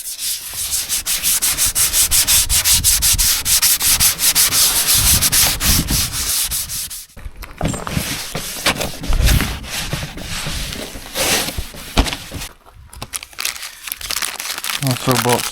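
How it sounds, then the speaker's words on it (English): Sandpaper rubs down the painted fiberglass shell of a 1993 Pennine Aztec trailer tent, steady close scratchy strokes for several seconds, then shorter broken rubs and pauses, with a voice speaking at times. "So I'm going to now rub this down again and try and get a decent coat this time."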